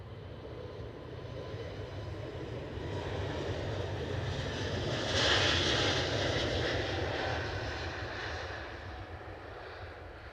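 Aegean airliner departing Edinburgh airport, a broad jet engine roar that swells steadily toward a peak midway and then slowly eases off, heard from a distance outdoors with no one talking.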